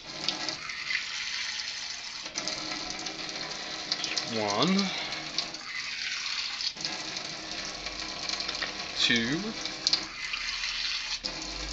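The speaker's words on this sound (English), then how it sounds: "So I'll get some water." Tap water runs steadily for about 3/4 cup while making a chocolate peanut butter Shakeology shake in a kitchen, a broad hiss from start to finish with a person counting under it.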